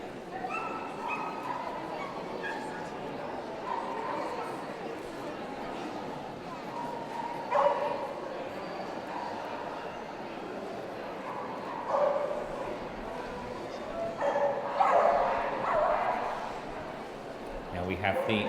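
Hounds at a city dog show whimper and yip intermittently, with a few louder bursts, while a voice speaks over a public-address system.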